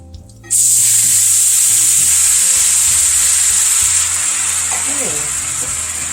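Red wine poured into a hot pan used for rosemary lamb steaks bursts into a loud, steady sizzle after a brief quiet start, with faint utensil scrapes and low background hum underneath.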